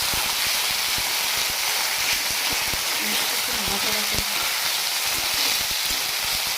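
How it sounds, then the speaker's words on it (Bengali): Onion and chopped tomato sizzle steadily in a hot pan, a constant close hissing fry with occasional faint pops, while someone speaks over it. "পেঁয়াজটা দিয়ে দিলাম, টমেটো কুচিটা দিয়ে দিলাম"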